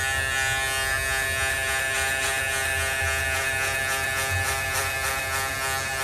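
Electric hair clipper buzzing steadily and close as it is scooped through a man's hair in a C-motion with the lever closed, blending a taper fade haircut.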